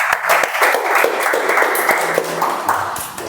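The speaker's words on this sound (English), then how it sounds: "Let's have a big round of applause." An audience at a Toastmasters club meeting applauding, dense, close clapping that holds steady and fades slightly at the end.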